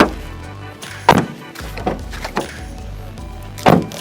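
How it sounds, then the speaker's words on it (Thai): A 2013 Nissan Almera's car door is shut several times, each close a solid thunk standing out near and fairly loud over quiet background noise, with no talking. "เดี๋ยวผมจะให้ดูฟังเสียงประตู"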